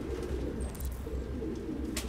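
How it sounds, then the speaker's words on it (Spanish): A pigeon coos in the video game Detroit Become Human, soft, low, repeated calls heard over a steady background hum. "A ver qué es eso. Una paloma."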